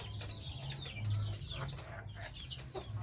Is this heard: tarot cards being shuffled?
no